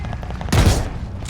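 One sharp sniper shot in the Call of Duty: Vanguard campaign cracks into a deep boom, loud and close over a low in-game background rumble.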